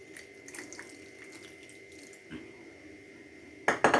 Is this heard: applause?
no